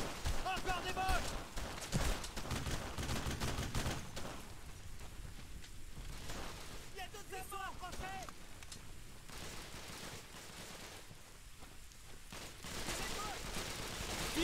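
Sustained suppressive gunfire in the World War II shooter Brothers in Arms: Road to Hill 30 on PS2, a dense crackling fusillade of rifle and machine-gun shots that runs continuously, with shouted voices breaking through now and then.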